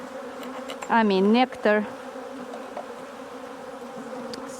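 Honeybees drone steadily around an empty fresh-wax hive frame sprinkled with syrup while a colony split is being made, a continuous close buzz with brief louder swells as individual bees pass near.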